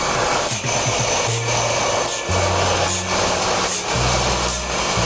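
Sawmill blade rasps through wood at an Indian sawmill, a loud continuous grinding with repeated pulsing strokes and lower tonal hums shifting between passes, no voices.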